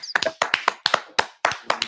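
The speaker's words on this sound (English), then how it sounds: "let's clap for them because they did their best" A live crowd at a press event on Kenya's Paris Olympics performance claps in a short burst of sharp, uneven hand claps, close and loud, with gaps between groups of claps and no talking.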